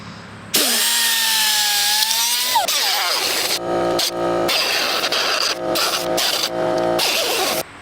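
A power tool cuts newer KLX110 plastic body pieces being fitted to a KX65 dirt bike: a motor whine rises and holds for about two seconds, then gives way to loud, rough, stuttering cutting bursts that continue to the end.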